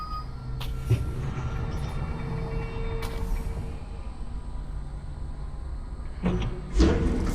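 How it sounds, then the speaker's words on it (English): Tram release mechanism in the video game Lone Echo 2, heard as a few separate mechanical clunks and sliding thuds over a steady ambient hum, the last pair close together near the end. "Tram released."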